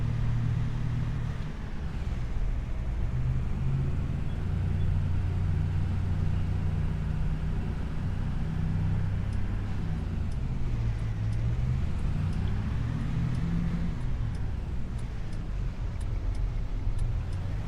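An empty truck with no load in the back driving in Farming Simulator 25, a steady low engine rumble with road noise running unbroken and fairly loud throughout, with no talk.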